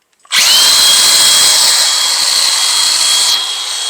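A Milwaukee M18 FSAG125X cordless angle grinder spins up with a sharp click and runs at a loud, steady high-pitched whine, easing off slightly near the end, with no talk over it.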